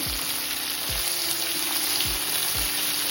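Tomato pieces with salt fry in a pan for a village-style jonna ravva vegetable upma, giving a steady close sizzle. Four dull knocks fall at a regular pace, like a spatula tapping the pan, and no one speaks.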